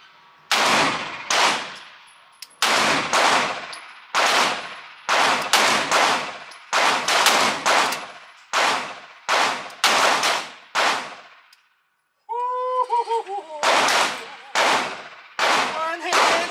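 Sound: gunshots from a rifle

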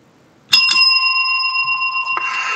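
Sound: double bell ring signalling end of shift

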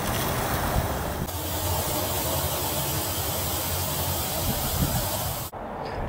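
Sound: water leaking from cracked copper pipe elbow joint

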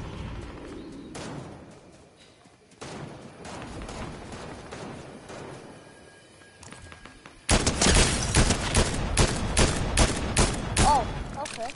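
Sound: gunfire in video game Fortnite

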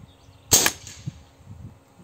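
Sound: shotgun slug shot fired from Fiora 600mm barrel

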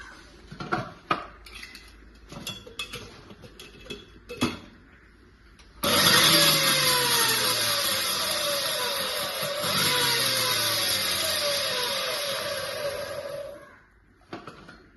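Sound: mixer grinder jar crushing chillies

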